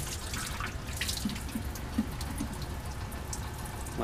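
Glass lab beakers rinsed under a running tap after an acetanilide synthesis, a steady hiss of flowing water with a few soft splashes and drips, fairly close, with no voices.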